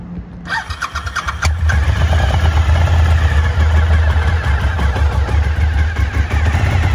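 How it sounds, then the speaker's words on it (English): A 2003 Suzuki SV 1000 S motorcycle engine starts nearby: a short starter crank, then it catches and settles into a loud, steady, rumbling idle. "just going to fire it up for you"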